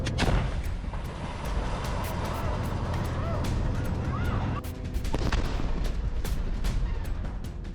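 War footage of explosions and artillery fire: a dense, continuous roar of heavy booms and rumbling blasts, with sharp cracks punctuating a constant loud low-end wash throughout.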